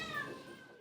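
A frightened cat on a New Year's night of fireworks gives a single short, fairly faint meow that trails off quickly.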